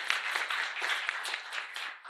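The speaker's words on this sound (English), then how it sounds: "A big round of applause for our panelists." Audience applause at a panel discussion on license compliance dispute resolution, a steady wash of many hands clapping at moderate distance, fairly even throughout with no talk over it.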